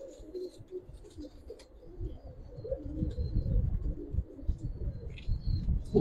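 Bright red Giribaz pigeons coo in deep, rumbling bursts that swell and fade, close and continuous, with a few faint higher chirps above and no voices.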